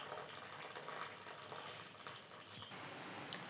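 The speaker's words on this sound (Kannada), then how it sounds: "ನೀರು ಮತ್ತು ಬೇಳೆ ಸಪ್ರೇಟ್ ಮಾಡ್ಕೊತಾ ಇದ್ದೀವಿ." Water is poured off cooked lentils and drains in a soft, steady trickle close by, with no talk over it.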